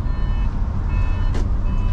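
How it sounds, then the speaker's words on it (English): The turn indicator of a 2017 Mercedes Tourismo bus beeps steadily in a regular rhythm over a loud idling engine rumble, close by. "That beeping's the indicator, so it's nice and conspicuous"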